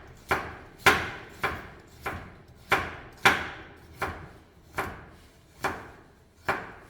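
A knife chops through carrot on a cutting board during fine julienne cutting, ten or so crisp, evenly spaced taps ringing out close and distinct in a quiet kitchen.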